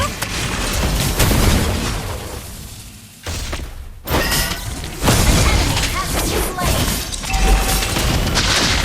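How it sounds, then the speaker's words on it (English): In a video game, a destroyed turret sets off loud booming explosions and crashing debris, dense and chaotic, with a short lull before another burst of blasts and rumbling impacts. "Our turret has been destroyed."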